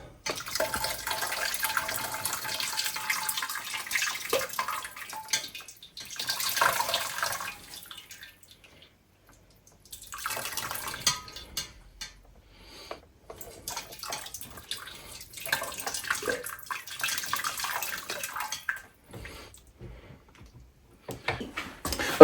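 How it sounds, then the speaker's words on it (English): Boiling water splashes and pours over a whole duck in several bursts separated by short quiet gaps, close by, with no talking. "I poured the boiling water over this."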